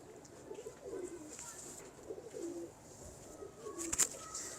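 Domestic pigeons cooing softly in repeated throaty phrases, with a brief sharp noise near the end, faint and close-sounding.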